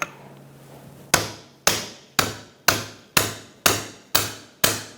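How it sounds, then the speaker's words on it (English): Eight sharp, evenly spaced metallic strikes of a hammer driving a cold chisel against the CV joint cover on a 2007-2017 Ford Expedition, each ringing briefly and decaying, close and loud, after a short quiet pause. "we're going to use a chisel, cold chisel, and a hammer"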